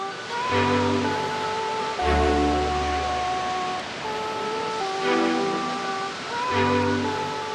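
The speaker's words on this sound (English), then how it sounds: "What do you think? Pretty big waterfall." A steady, heavy rush of falling water at Snoqualmie Falls, Washington, roars continuously, with a faint tonal hum drifting in and out beneath it.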